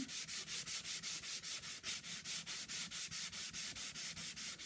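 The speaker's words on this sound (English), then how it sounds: "But I can sand here." Sandpaper rubbing back and forth over a painted furniture sample with two coats, a steady, close rhythm of about four strokes per second with no talking.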